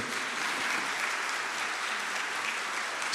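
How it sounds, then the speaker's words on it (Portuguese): Congregation in a church service applauding, a dense, continuous wash of clapping at moderate loudness with no voices over it. "Dê um forte aplauso a Jesus pela vida do seu pastor agora também."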